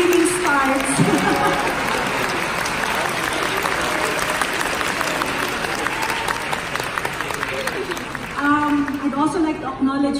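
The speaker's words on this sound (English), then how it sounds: "You have to clap for her because she has to leave when the screening starts." An audience applauding at a film gala night, dense sustained clapping throughout, with a voice talking over it near the start and again toward the end.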